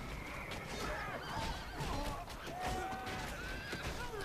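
Horses neigh and whinny repeatedly in the Lord of the Rings: Battle for Middle-earth strategy game, mixed with hoof clatter and a dense, constant layer of battle noise.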